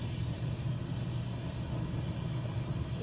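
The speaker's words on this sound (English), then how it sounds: "You can see that the flame is going into the flask." A jeweller's torch flame roars steadily into a hot casting flask during centrifuge casting, a continuous broadband hiss with a low rumble, close and unbroken with no talk.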